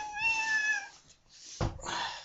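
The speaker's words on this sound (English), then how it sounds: "And my cat's attacking my computer." A house cat meows near a computer, drawn-out meow tones followed by a brief thump or knock as it paws at the machine, close and moderately loud with no talk.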